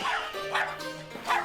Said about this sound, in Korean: 낯선 냄새에 이 동네 개들이 경계하는 듯합니다